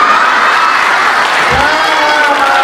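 Loud, dense applause from an audience at a Hindi comedy poetry show, steady clapping filling the space close by for a couple of seconds, with a voice speaking over it.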